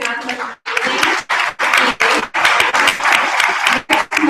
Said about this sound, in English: big round of applause for the Brett region for the national